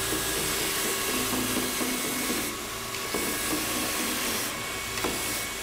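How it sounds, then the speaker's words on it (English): A belt sander works across a wooden door wider than 12 inches with a loud, continuous whirring drone that swells and eases slightly as it moves over the surface. "Since this door is more than 12 inches, I can easily keep it stable as I'm sanding."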